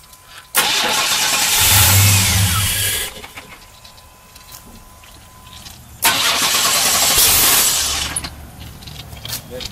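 A car engine running on hydrogen gas fed into the intake manifold cranks and catches twice, each time producing a loud, close roar that holds for a few seconds before dropping back to a quieter rumble.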